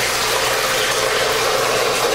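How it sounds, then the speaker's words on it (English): Milk pours into beaten eggs in a mixing bowl with a steady, close liquid rush that runs without a break and with no voices. "We're also going to pour in some milk."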